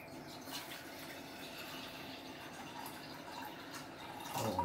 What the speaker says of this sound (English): So let's put some water into the water bowl.